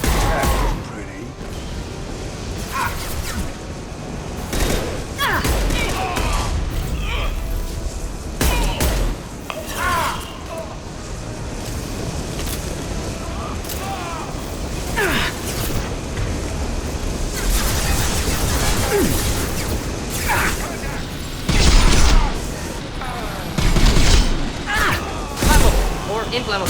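Heavy gunfire fills a Mass Effect 2 combat scene, with dense bursts of shots and explosive impacts rolling continuously over a loud battle mix, spiking harder near the end, while voices call out.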